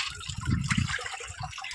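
Water thrown and splashing across the floor of a cowshed during cleaning, a fairly loud continuous gush lasting under two seconds with no talk.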